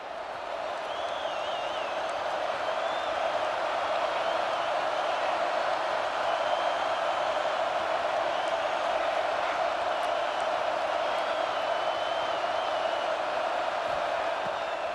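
Steady, loud stadium crowd roar with cheering in EA Sports College Football 26, a continuous wash of noise that holds evenly for the whole stretch, with faint game commentary voices underneath.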